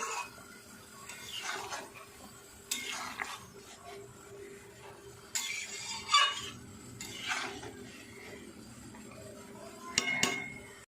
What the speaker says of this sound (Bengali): ভালো করে এটা নাড়াচাড়া দিয়ে নেবো।